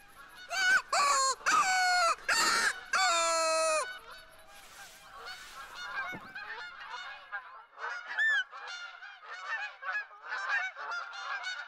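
A burst of loud, close Canada goose honks comes first, then a longer run of fainter, scattered calls from the flock in The Hunter: Call of the Wild.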